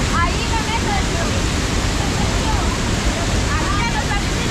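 Storm water rushes through a flooded swimming pool like a river, a loud, continuous roar of churning water close to the microphone with no break.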